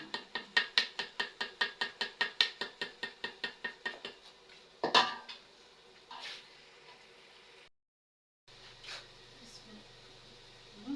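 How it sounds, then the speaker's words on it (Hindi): Kadhi mixture is strained in a home kitchen: a quick run of about twenty rhythmic metal taps on a strainer, then a sharp clank and scattered softer utensil knocks, with someone talking nearby. "इसे जी छानना शुरू करते हैं।"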